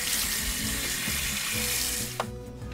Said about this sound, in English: and then we're going to rinse them off